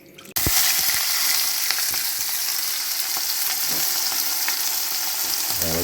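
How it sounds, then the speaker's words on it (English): Saltfish and pak choi hit a hot pan with a sudden loud sizzle that settles into a steady, close frying hiss with occasional light crackles. "I'll let this saute."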